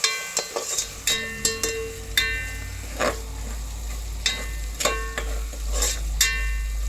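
Onions fry for a Kathiyawadi garlic olo, a steady low sizzle in the pan under repeated metallic clinks and scrapes of a spoon stirring, the taps coming in an irregular rhythm close by.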